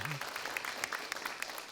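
A studio audience claps for a child singer on a children's preaching and singing show, light, quick applause at low volume with voices and bits of music underneath.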